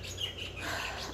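A bird chirps and tweets in a garden, a steady run of thin, fairly faint calls at moderate distance.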